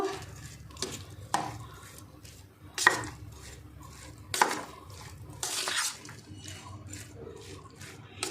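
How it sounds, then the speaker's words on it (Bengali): Sago being mixed with salt in a bowl using a spoon, giving soft scraping strokes and a few sharper taps of the spoon on the bowl at close range, repeating irregularly with no voices over them. "এবার আমি তাহলে এই লবণটা দিয়ে আমি সাবুটা মেখে নেব। হাত দিয়ে মাখবো না, চামচ দিয়েই মেখে নেব।"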